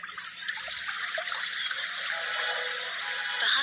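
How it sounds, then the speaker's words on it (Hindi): Water from a waterfall pours and splashes down steadily in a continuous, bright rushing wash, with no voices present. "झरने से झरझर करता पानी गिर रहा था।"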